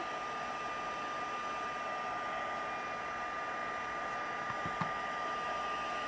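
A hair dryer blows on a wet painting with a misted background technique, a steady close whoosh that runs unbroken throughout with no talk.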